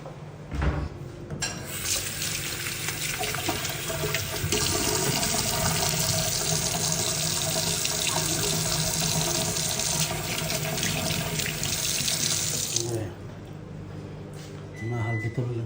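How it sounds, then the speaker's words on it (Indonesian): Water runs steadily from a tap for handwashing, a loud continuous hiss lasting about eleven seconds before it shuts off, with faint voices in the background. "Cuci tangan dulu."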